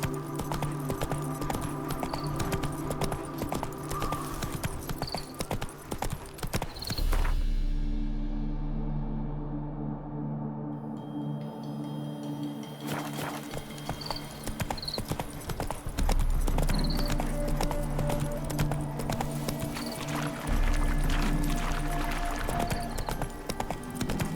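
Hooves of Geralt's horse Roach clip-clop steadily as she trots through The Witcher 3 for nearly half a minute. The loud, close hoofbeats are broken by a brief quieter stretch with low droning, and faint talk sits beneath them.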